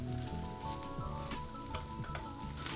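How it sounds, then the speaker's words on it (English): Vegan fried rice sizzles and crackles steadily in a hot pan, a close, continuous frying hiss with scattered pops and stirring scrapes. "our rice is really crackling now"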